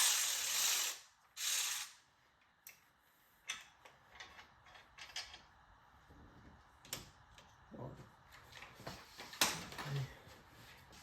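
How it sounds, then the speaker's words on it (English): Ratchet wrench unbolting a supercharger bracket on a supercharged 5.0 engine, giving scattered close ratcheting clicks and metallic knocks in short bursts, fairly quiet, with little talk. "Then we just got to unbolt this big bracket right here and pull it all out."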